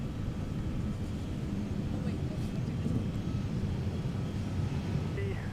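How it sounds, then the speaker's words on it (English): A small aircraft lands on a long runway at Minneapolis–Saint Paul airport, a steady distant engine rumble under a voice talking. "Took advantage of that long runway with that small aircraft."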